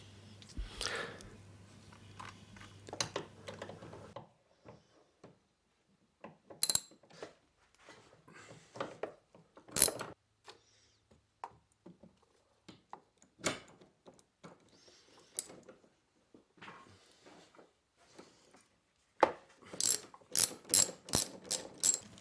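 Ratchet wrench clicking while removing front sway bar bolts on a Jaguar XKR, heard in several bursts of rapid close-up pawl clicks with brief pauses, plus a few metallic knocks and no talking.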